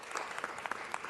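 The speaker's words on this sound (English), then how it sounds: "Let's give them a round of applause." Short, faint applause at a city council meeting for guests from Guatemala, a steady patter of clapping from the chamber lasting about a second.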